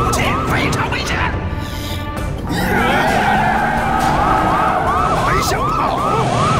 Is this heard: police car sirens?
yes